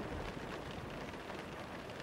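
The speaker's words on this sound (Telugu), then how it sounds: "బయటంతా ఫుల్ వర్షం" Heavy rain pours outside, a steady, dense hiss that stays even and unbroken for the full stretch, with no voices over it.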